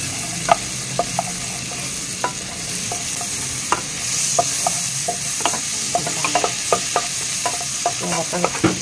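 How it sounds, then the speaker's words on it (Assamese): Onion and chopped garlic fry in a pan for a cucumber soup: a steady close sizzle with irregular scraping clicks from stirring scattered through the whole stretch. "পিঁয়াজখিনি ভাজি ল'লোঁ পিঁয়াজৰ পিছত এবাৰ মই দিলোঁ নহৰু কুটা"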